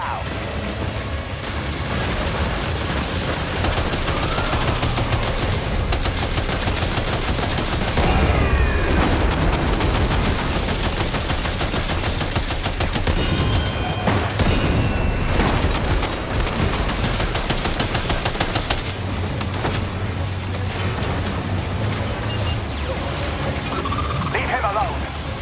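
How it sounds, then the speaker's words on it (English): Sustained game gunfire with bursts and booms in Death Stranding 2, loud and dense throughout, with voices speaking over the combat. "Opening fire."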